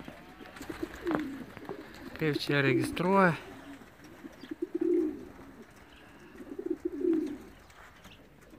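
Racing pigeons coo at the loft in several rounded, throaty bursts spread across the span, with a person speaking briefly between them.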